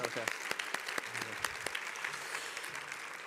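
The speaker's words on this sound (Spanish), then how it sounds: "Un buen aplauso, claro que sí." A workshop audience welcomes a speaker with scattered, distinct hand claps that come in loose bursts rather than a dense roar, mixed with nearby voices talking.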